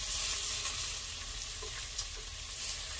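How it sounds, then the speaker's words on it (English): Bacon frying in a soup pot, a steady close sizzle and crackle with a few small pops, continuous throughout. "I'm gonna flip this bacon over."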